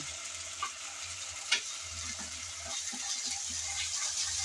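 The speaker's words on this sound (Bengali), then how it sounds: "নেড়ে চেড়ে আমি ভেজে নিলাম আদা রসুন আর পেঁয়াজ" Ginger-garlic paste and onion frying in a pan, a steady hiss of sizzling oil with a few soft scrapes and knocks of stirring, close and moderately quiet, no talking.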